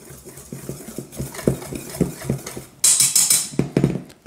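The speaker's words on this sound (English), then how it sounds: "just kind of whisk them all together" A whisk stirs dry raisin bran muffin ingredients, including baking soda and no white flour, around a bowl in steady, rhythmic scraping strokes about twice a second, close and fairly loud, with a brighter rattling burst near the end.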